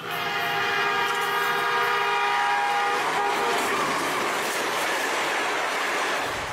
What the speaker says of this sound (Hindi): ठहरिए, ट्रेन आ रही है।